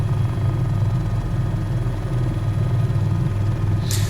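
A steady, heavy low rotor drone with a pulsing chop from an H130 helicopter in Microsoft Flight Simulator holds constant and loud throughout, with a brief hiss near the end and no talking.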